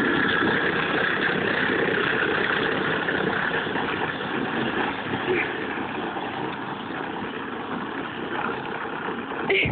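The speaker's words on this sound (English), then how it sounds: "Look at Sophie and her motorcycle" A child's small motorcycle engine runs steadily close by, a continuous buzzing drone with no break.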